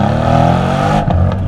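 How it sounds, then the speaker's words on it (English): The V8 of a 2020 Mercedes C63 AMG S roars loud and close under hard acceleration, a steady throaty note that drops abruptly at the end. "You don't get that ridiculous V8 noise"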